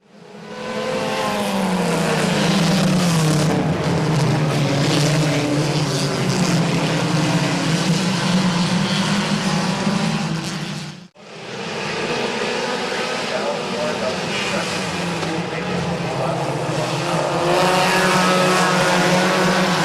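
Race cars roaring around Midvale Speedway oval track, a loud, continuous engine drone with shifting pitch as the field passes, briefly dipping before the roar resumes, with an announcer's voice over it.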